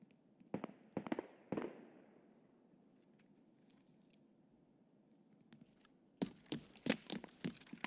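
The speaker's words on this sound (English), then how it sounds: "that grenade sounded like it was behind me" Grenade blasts in Escape From Tarkov: a few sharp bangs early, a long quiet gap with faint ambience, then a dense burst of loud cracks and blasts at the end, with no talking.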